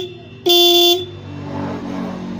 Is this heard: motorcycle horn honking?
yes